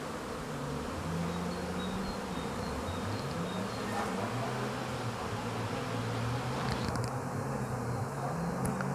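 Honeybees buzz steadily around a hive during beekeeping inspection, a dense layered drone with individual bees passing close by, wavering pitch, continuous throughout and no talking.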